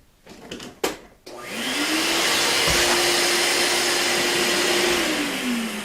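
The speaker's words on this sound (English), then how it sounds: "Clean the slot out, get the vacuum." A few handling knocks, then a vacuum cleaner switches on and runs with a loud, steady whine and roar close by.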